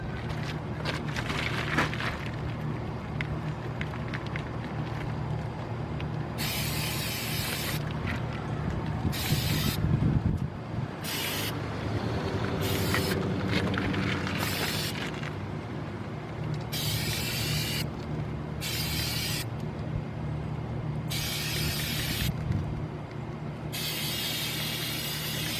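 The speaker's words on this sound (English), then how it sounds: "I might spray it a little bit more." Repeated hissing bursts from an aerosol can of Flex Seal rubber sealant sprayed onto a leaking roof, several short sprays in an irregular rhythm over a steady low background rumble.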